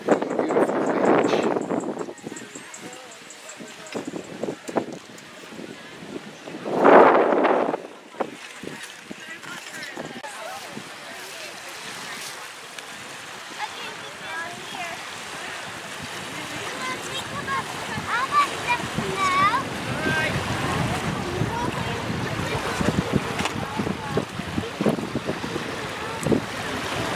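Wind and surf at a beach, a steady rushing wash of waves building through the clip with gusty wind buffeting the microphone, while people talk over it near the start.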